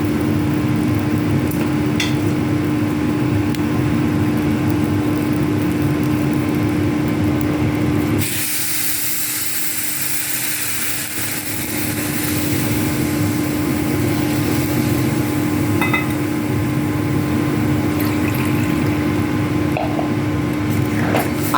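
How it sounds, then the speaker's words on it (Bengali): Hot water poured into fried rice in a cooking pan for basanti pulao sets off a sudden, loud, broad sizzling hiss. It cuts through steady kitchen hum, then subsides after a few seconds. "এবার আমি গরম করে রাখা জলটা এর মধ্যে দিয়ে দেব।"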